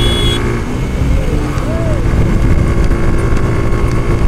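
Old motorcycle engine droning loud and steady during a race, with a brief rising whine midway and constant wind and road roar.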